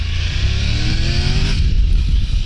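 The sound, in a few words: Triumph Tiger 1200 Rally Explorer motorcycle accelerating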